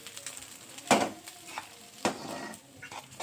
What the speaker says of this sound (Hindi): कुकर से सारे को इसको इसमें डाल दिया है।